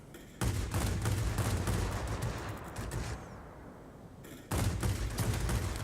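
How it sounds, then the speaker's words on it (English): Heavy 23mm and 37mm cannon fire in a MiG-9 jet flight game, arriving as two loud, rapid bursts with a brief lull between them over engine roar. "23mm and 37mm cannon"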